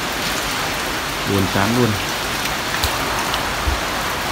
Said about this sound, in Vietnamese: Các bạn nhìn này, mưa thối đất thối cát luôn